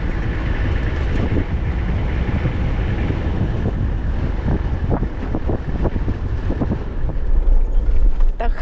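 Strong desert sandstorm wind buffeting a 4x4 Toyota Troopy in Anza Borrego, California, a loud continuous roar and rumble with gusty buffeting that swells toward the end, with no speech.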